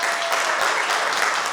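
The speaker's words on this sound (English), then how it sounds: "Let's give them a round of applause" Audience applause at a youth debate event, a dense, steady clapping from a crowd filling the space at even loudness throughout.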